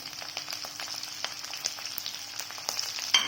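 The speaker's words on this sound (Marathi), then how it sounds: "कांदा आपल्याला फार शिजवायचा नाही आहे, साधारण गुलाबी रंगावर आपल्याला याला परतून घ्यायचं." Urad dal, chopped green chilli, ginger and onion sautéing in a hot pan, a steady close sizzle crackling with small pops and occasional stirring scrapes, no voices.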